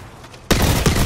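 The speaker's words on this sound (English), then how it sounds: "Three shots." Gunfire erupts in the video game Apex Legends, a sudden loud burst of shots after a brief quiet start, dense and close.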